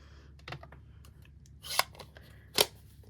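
Scissors cut through a stamped die-cut paper piece, a few soft snips followed by two sharper, louder cuts close by, quiet room otherwise.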